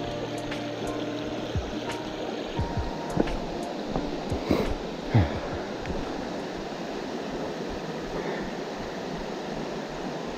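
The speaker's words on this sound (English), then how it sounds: "But I hear water." Creek water flows in the woods in the mountains near Cary, North Carolina, as a steady rushing wash with a few small knocks and splashes on top.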